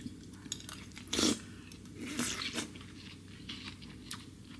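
Someone bites into and chews a ripe peach, with a few crisp, wet crunches close to the mic and quieter chewing in between.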